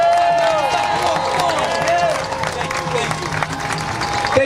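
Crowd at a city hall protest in New York clapping and cheering, a rolling applause with shouts and babble, a voice talking over it and a high whistling tone weaving through.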